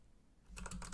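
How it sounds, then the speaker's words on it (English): Rapid computer keyboard typing kicks in halfway through, a cluster of close, crisp key clicks after a quiet start, with no voices. "What else should I try typing in?"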